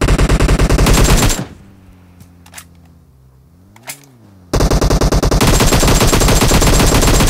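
Rapid automatic gunfire in a video game bursts loudly at the start and resumes after a short lull holding a rising engine-like hum and a few clicks.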